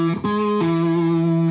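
Distorted electric guitar sounding a few sustained notes from a scale, thick and buzzing, with a quick pick change early on and a second attack partway through, played alone and loud.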